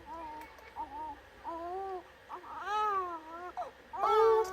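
Cute cat pet sounds in the Roblox Squid Game video game: a run of high, wavering meow-like cries, several separate calls rising and falling, the last loudest, with no talk.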